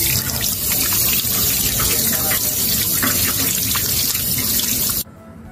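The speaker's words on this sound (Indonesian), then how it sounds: "mencuci tangan di bawah air mengalir" Hands being washed under a running tap, a steady loud rush of water splashing into a sink that runs continuously before cutting off abruptly near the end.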